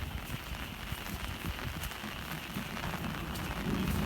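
Steady rain falls over rice paddies after a long dry spell, a soft continuous hiss of drops on water and leaves with scattered patter, fairly quiet and even throughout with no voices.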